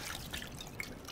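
Alcohol is poured onto a large stab wound in the survival horror game Resident Evil 7: Biohazard, a faint, steady dripping and trickling of liquid that plays alone for about a second.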